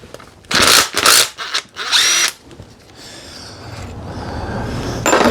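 An air impact gun removes bolts from a Honda GL1000 Goldwing during restoration, with three loud close rattling bursts of hammering followed by the quieter hiss and whir of the tool spinning down.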